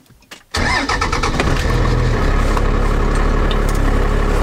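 A truck with a 12V Cummins diesel engine fitted with a compound turbo kit cranks and fires up after a brief quiet moment, then settles into a loud, steady rumbling idle up close.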